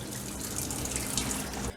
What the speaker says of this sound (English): I'm washing off the chicken with cold running water.